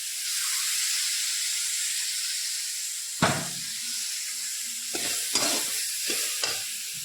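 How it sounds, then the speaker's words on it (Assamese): Pumpkin being stirred in a frying pan with a steady sizzle of hot oil underneath, broken by a few sharp scraping strokes of the spoon toward the end. "তাৰ লগে লগে মই ইয়াত ৰঙালাওখিনি মিহলাই দিওঁ"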